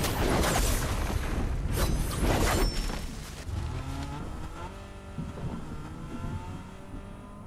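Car engine in a shooter video game, loud revving and accelerating with bursts of noise early on, then a steadier engine drone to the end, with no talk over it.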